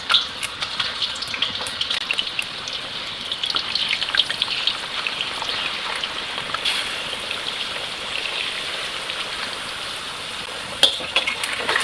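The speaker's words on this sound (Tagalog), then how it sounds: "ngayon mainit na yung oil. So, ilalagay na natin yung chips. So, nilalagay ko siya 1 by 1" Chips frying in hot oil for chicken kabsa, a continuous close bubbling sizzle with crackly spits and a few sharper clicks, no one talking over it.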